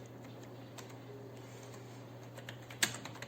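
Someone types on a computer keyboard while writing database code, giving soft, sparse key clicks over a steady low electrical hum, with one sharper clack near the end, close and quiet.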